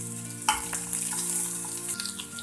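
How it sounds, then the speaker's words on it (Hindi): Mustard seeds, curry leaves and green chilli sizzle and crackle in hot oil as a tempering for dhokla, a steady close frying hiss with a few sharp pops. "राई डाल देंगे, और राई को अच्छी तरह से हमें तड़कने देना है।"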